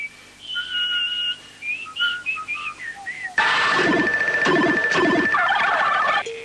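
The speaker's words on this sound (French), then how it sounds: "ils comptent explorer les possibilités méconnues du sifflet" Whistled tones in a quick melodic run, bright and clear, followed by a louder busy stretch of sustained whistling over a dense backing.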